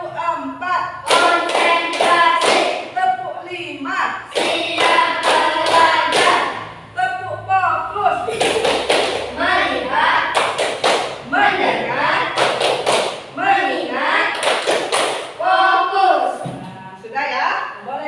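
A school class standing for an ice-breaking clapping game, sharp bursts of group claps in clusters of several, loud and close, alternating with a teacher's voice and children's chatter.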